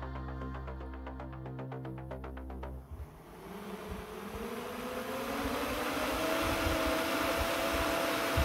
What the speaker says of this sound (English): Even though this was a tiny motor with a propeller that was nowhere near optimal